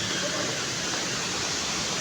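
Hinulugang Taktak waterfall rushes as a steady, dense broadband roar, heard briefly from nearby.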